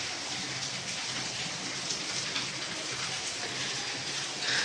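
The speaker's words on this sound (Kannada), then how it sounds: "ನೋಡಿ ಎಷ್ಟು ಜೋರು ಮಳೆ ಬರ್ತಾಯಿದೆ, ಸ್ಟಾಪೇ ಆಗಿಲ್ಲ" Heavy rain pours steadily on a farm, a loud, dense, unbroken hiss of drops striking surfaces close by, with no voices.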